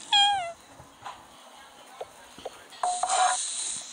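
A cartoon cat in the Toca Kitchen cooking game gives a clear, tuneful meow at the start and another shorter meow near the end, separated by small clicks and game sounds.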